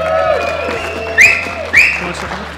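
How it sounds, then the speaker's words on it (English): Audience applause with two sharp whistles, greeting a Stanley Cup and gold medal winning guest at a car dealership's five-year anniversary event, over a steady background hum and tonal music. "Let's give Duncan a round of applause."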